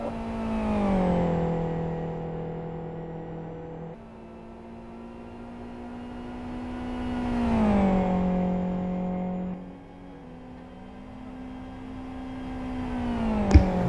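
A race car engine sweeps past at an endurance event qualifying session, its note rising as it approaches and falling away as it passes, twice in succession, loud and close.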